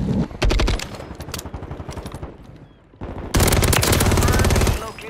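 Automatic weapons fire in a console battle-royale shooter, with dense, rapid bursts of shots coming near and loud, a brief lull, then another sustained, heavier volley.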